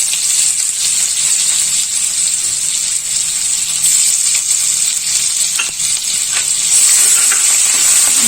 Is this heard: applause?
no